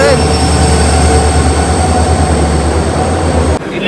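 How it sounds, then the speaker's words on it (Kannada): A passenger train pulls into a station platform, its loud steady rumble and wheel noise filling the scene before stopping abruptly near the end; people talk faintly in the background. "ಟ್ರೈನ್ ಬಂತು."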